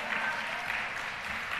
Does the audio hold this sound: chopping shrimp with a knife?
no